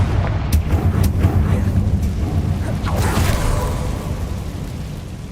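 A Confringo blasting spell goes off in Hogwarts Legacy, a booming explosive burst with a rumbling low-end tail that fades over a few seconds, heard alone without talk.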